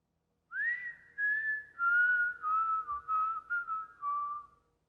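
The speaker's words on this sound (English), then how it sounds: "He looks down and whistles." A man whistles a short wavering tune of about eight notes, clear and close in a quiet room, with brief gaps between phrases and no talking.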